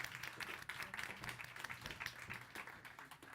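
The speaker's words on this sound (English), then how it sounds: "Please give her a round of applause," Audience applause fills a room at a food and climate event, a dense, steady wash of many hands clapping that holds at an even level throughout.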